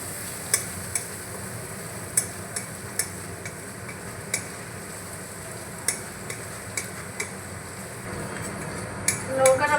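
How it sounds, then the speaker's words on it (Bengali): Red chilli powder and turmeric frying in a pan for a potol chingri (pointed gourd with prawns) curry, a soft steady sizzle under repeated sharp scrapes and taps of a stirring spoon, close and moderately loud. "আর লঙ্কাটাকে একটু ভাজা ভাজা করে দেবো।"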